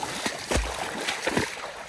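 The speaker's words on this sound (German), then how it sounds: "Geh mal durchs Wasser." Footsteps wade through a shallow stream in a Cyprus gorge, with several distinct splashes and sloshes a few tenths of a second apart, close to the microphone over a background of running water.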